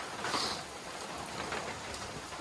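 Steady rain falls on the Appalachian Trail, a dense, continuous hiss of drops hitting surfaces close by, with no voices and no thunder.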